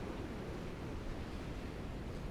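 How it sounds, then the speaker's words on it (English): Distant ocean surf rolls in with a soft, continuous wash of noise, faint and windy, with no voices. "let's just wait for some more nice waves to come in."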